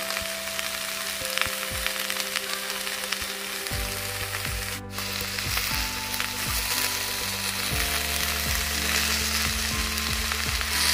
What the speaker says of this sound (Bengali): এবারে আমি এর উপরে কেটে রাখা পালং শাকগুলো দিয়ে দিলাম।